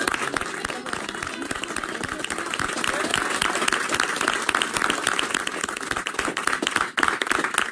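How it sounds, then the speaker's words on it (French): Studio audience at BFM Paris Île-de-France applauding at the close of a TV broadcast, steady dense clapping with a few voices mixed in, lasting the whole stretch. "qu'on applaudisse"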